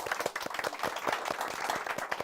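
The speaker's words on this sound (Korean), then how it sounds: "오늘 수고해주신 MC분들께 박수 부탁드립니다." A small audience at a book forum claps for the hosts, distinct close hand claps overlapping at a brisk uneven rhythm for a couple of seconds.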